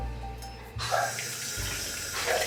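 Tap water runs at a bathroom sink as a face is rinsed, starting abruptly and then continuing as a steady close splash with small shifts in the flow.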